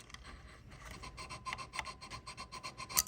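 A chopstick scrubs the contacts of an input jack on a 1966 Fender Bandmaster amplifier, giving soft, close rasping strokes in a quick uneven rhythm that grow louder toward the end, with no talking.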